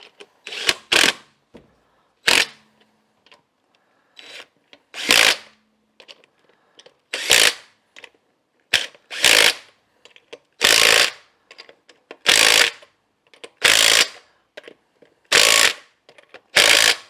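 An impact wrench fastens the lug nuts on a 2011 Chevrolet Impala wheel with repeated loud rattling hammering bursts, each lasting about half a second to a second, separated by quiet pauses and faint handling clinks.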